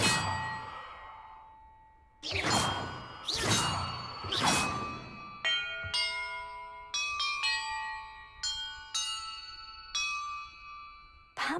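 Bells ring in the video game Hogwarts Legacy: three heavy struck clangs with long ringing decay, followed by a quicker sequence of lighter chiming strikes, all clear and resonant with no talk.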